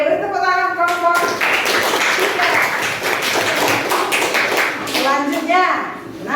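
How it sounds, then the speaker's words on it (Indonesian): A burst of clapping from a classroom group, brisk and close, flanked by children's voices talking before and after. "beri tepuk tangan kelompok"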